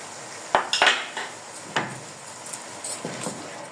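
Metal clinks and scrapes against a cooking pot as beef nehari is mixed with tomato puree and browned onions, with several sharp knocks close by and quieter scraping in between.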